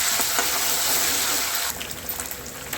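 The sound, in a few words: ginger garlic paste frying in hot oil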